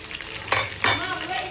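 Chicken frying in hot oil for ayam sambal, a close steady sizzle with two sharp bursts as the pieces are stirred or turned, no talking.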